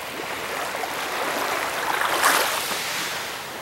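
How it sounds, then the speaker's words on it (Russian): Waves wash steadily along the long sandy stretch of Sokha beach in Sihanoukville, Cambodia, a continuous hiss of surf that swells briefly midway, with some wind. "И вот такой длинный пляжик."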